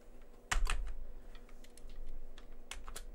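Keys tapped on a computer keyboard to enter a command in Amos Pro: a quick cluster of close clicks, a pause, then another short burst near the end, with no talking.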